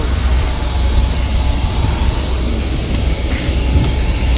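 Steady, loud roar of an airliner's large jet engine running, a continuous broadband rumble with a high whine on top, heard from close by with no talking.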